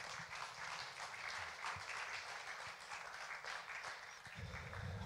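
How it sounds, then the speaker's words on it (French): A church congregation applauds steadily at a Sunday Ascension service, a faint, continuous patter of clapping that fills the whole stretch. "on peut l'applaudir"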